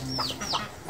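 Chickens cluck in the Sakura School Simulator game, a few short, close clucks in quick succession with no one talking.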